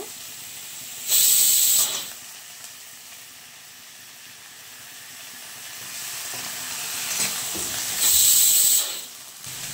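Potatoes and eggplant hit hot oil in a pan with onion and garlic, giving two loud bursts of hissing sizzle about seven seconds apart, with a steady quieter frying crackle between them.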